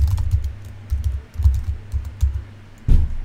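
Typing on a computer keyboard while entering Linux container commands: irregular bursts of close, crisp key clicks with short pauses between them, and a firmer keystroke near the end.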